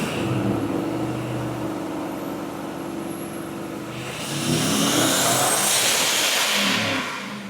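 A supercharged Chevrolet Silverado pickup roars on a dyno with a loud, sustained engine drone. It climbs into a harder rev about halfway through, holds near full throttle, then begins to ease off at the end.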